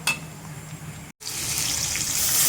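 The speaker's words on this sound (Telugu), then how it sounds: "ఇప్పుడు వాటర్ యాడ్ చేసుకోవాలి." Water is poured into a pan for wheat rava upma, making a close, steady rushing splash that breaks off briefly and then resumes louder and sizzling.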